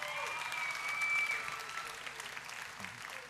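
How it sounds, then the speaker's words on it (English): Applause for students at a secondary school graduation ceremony, a steady wash of clapping from a large audience that swells around the middle and then gradually thins, with faint voices underneath. "Round of applause for all the students."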